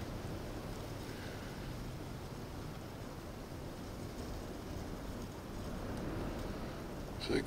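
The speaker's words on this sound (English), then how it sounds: "It is extremely stinking windy out there." Strong wind blows outdoors, buffeting the microphone with a steady, loud low roar that swells slightly toward the end.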